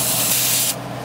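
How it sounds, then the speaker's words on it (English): A loud, close hiss of WD-40 aerosol sprayed onto an engine while hunting a boost leak, one steady burst that cuts off abruptly, leaving a low engine hum. "I'm using WD-40."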